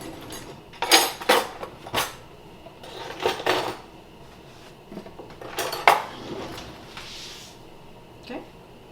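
Metal utensils and cutlery clatter and clink in several short, close bursts in a home kitchen while cooking chicken and dumplings, with a voice speaking briefly between the sounds.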